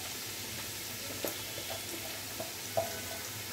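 Chopped onions frying in hot oil for beresta, a low steady sizzle with a few soft stirring knocks, fairly quiet and close with no talking.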